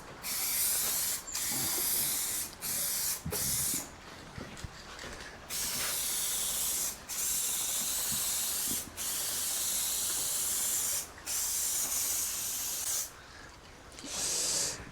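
A rattle can sprays paint in repeated coats, each a loud close hissing burst lasting one to two seconds, separated by short quiet gaps, about a dozen bursts in steady rhythm.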